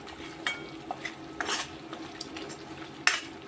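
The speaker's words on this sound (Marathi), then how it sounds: "रवा असा छान मंद आचेवरच ब्राऊन रंगावरती भाजून घ्यायचा आहे" Semolina roasting in ghee over a low flame for sheera prasad, stirred with a spoon that scrapes and taps the pan several times over a quiet sizzle, with no talking.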